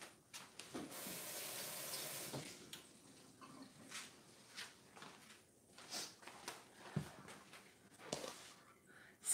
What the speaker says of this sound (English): I'm going to rinse off my tomato.